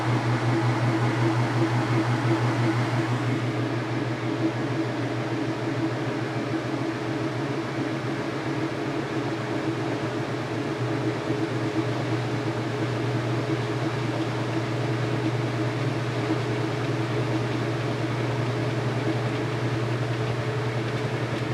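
A high-efficiency washing machine spins up a full load of soaking-wet towels, a steady loud mechanical hum and whir with a strong low drone that holds constant throughout, with no voice.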